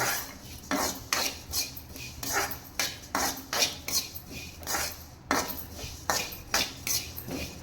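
Black urad dal dry roasting in a pan, with a steady run of rhythmic scraping strokes and light rattling of the lentils against the metal, close and fairly even throughout.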